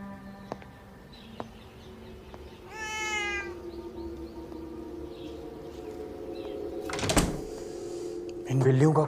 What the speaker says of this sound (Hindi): इन बिल्लियों का कुछ करना पड़ेगा